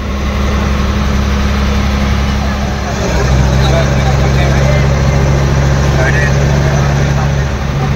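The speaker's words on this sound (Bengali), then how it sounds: "বোট ছেড়ে দিয়েছে আমাদের" A small passenger boat's engine drones loud and low, then deepens and steadies as the boat pulls away, with a constant rumbling hum under faint background noise.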